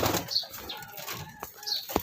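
A young racing pigeon flaps its wings in short, soft bursts while held in the hand, close by and fairly quiet, with faint rustling between the flaps.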